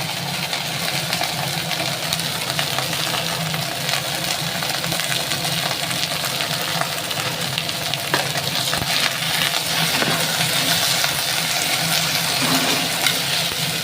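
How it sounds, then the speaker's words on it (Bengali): Coriander leaves fry in a wok with turmeric and salt, an even, close hissing sizzle that runs the whole time with occasional stirring knocks. "দিয়ে এটাকে ভালো করে নেড়ে চেড়ে ভেজে নিতে হবে।"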